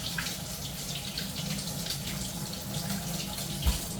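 Tap water runs steadily into a sink while sweet potatoes are washed for raw-pack canning, a continuous close splashing hiss with no talking.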